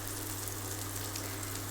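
Meatballs frying in a pan, a steady close crackling sizzle with no voices.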